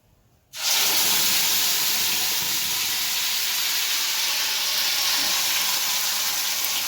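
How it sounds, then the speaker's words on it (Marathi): Ground tomato paste is dropped into hot oil with curry leaves, and a loud, sudden burst of sizzling rises into a dense, steady hiss that carries on without a break. "तर आता मी इथं वाटलेलं टमाटरचं वाटण आहे ते घालून घेते"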